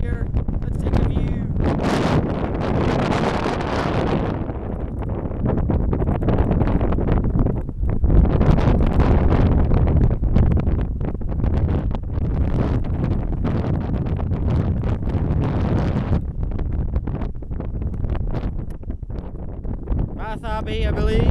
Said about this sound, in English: It's already windy here.